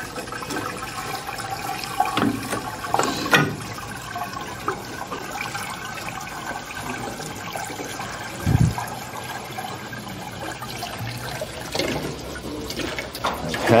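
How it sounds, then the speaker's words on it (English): Sugar water pours steadily into the opening of an Italian ice machine, trickling and splashing for several seconds with a few louder sloshes. "Pour it in the opening here."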